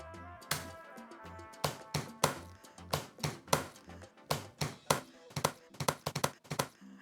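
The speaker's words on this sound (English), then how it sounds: "Peeling and chopping garlic." Garlic cloves chopped with a knife on a cutting board, a run of sharp close knocks, uneven at first and then in quicker bursts, with no talking.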